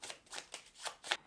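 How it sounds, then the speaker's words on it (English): Playing cards for the Sushi Go Party card game are shuffled by hand in four or five quick riffling bursts at close range, crisp and papery, with short pauses between them and no talk. "First, we shuffle them"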